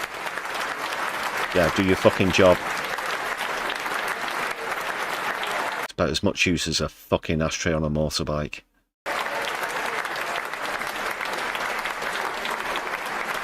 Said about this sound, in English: I'm sorry we're still clapping